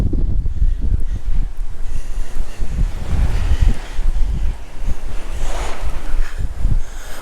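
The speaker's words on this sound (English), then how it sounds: "It's a bit windy, so I'm trying to shout up." Strong wind buffets the microphone outdoors on a walk near old churches and a graveyard, a loud, gusty roar throughout with no clear speech.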